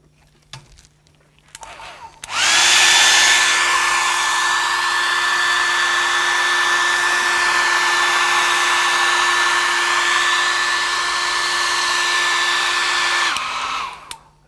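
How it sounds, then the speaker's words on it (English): A hair dryer switches on and blows over painted paper with a steady, loud whirring hum for about eleven seconds, then cuts off. "take my dryer."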